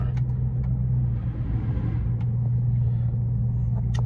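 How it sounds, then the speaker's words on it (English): A truck engine runs with a steady, close, low rumble that holds at an even level throughout, with no talking. "Let me crank this truck up"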